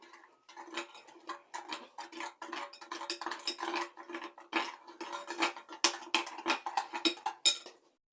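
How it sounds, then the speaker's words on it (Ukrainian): A spoon works through honey cookie dough in a bowl after cinnamon is added, giving a quiet, irregular run of clinks and scrapes against the bowl that speed up and grow louder toward the end. "Потім додаємо корицю, висипаємо і знову перемішуємо."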